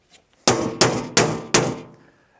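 A hammer strikes the steel door of a Liberty gun safe four times at an even pace. Each loud, close blow rings with a resonant metallic boom that decays slowly.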